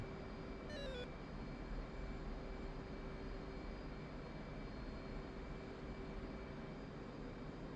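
A jet engine drones steadily in the DCS flight simulator game with the throttle pushed up, a continuous broadband roar with a high whine, heard alone throughout with a short rising electronic tone near the start.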